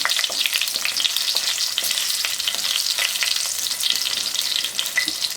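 Dried red chilies, tops snipped off, sizzle steadily in hot oil for a spicy potato fry, giving a dense, continuous crackle with bright pops scattered throughout and no voices.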